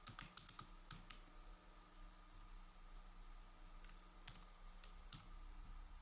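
Keys on a computer keyboard clatter quietly during data entry, with bursts of rapid clicking and short pauses between, no one talking.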